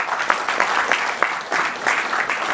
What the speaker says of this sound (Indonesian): Tepuk tangan buat Kang Heridim.